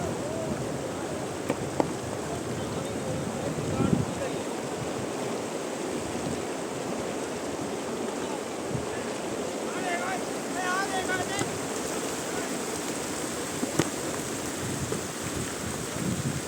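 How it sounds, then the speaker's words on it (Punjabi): Water running over stones in a mountain stream near Jispa, Himachal Pradesh, a steady broad rushing wash with wind buffeting the microphone and a few faint chirps partway through. "ਪਿੱਛੇ ਆ ਪਾਣੀ ਦੀ ਚੱਲਦੀ ਆਵਾਜ਼ ਪੱਥਰ ਨੂੰ ਚੱਲਦੀ ਆਵਾਜ਼ ਆਉਂਦੀ"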